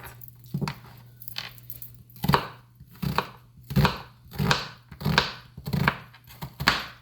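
Onions are diced with a knife on a cutting board: about ten crisp, evenly spaced chops ring out close by over a faint steady hum, with no talking.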